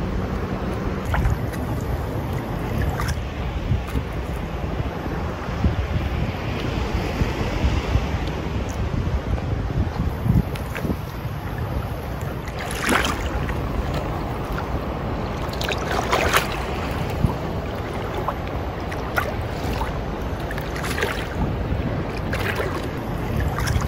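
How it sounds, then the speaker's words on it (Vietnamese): Big sea waves slosh and surge around a boat off Phu Quoc island, Vietnam, with steady wind buffeting the microphone and repeated splashes over nearly half a minute and no talking. "Sóng to rồi đó"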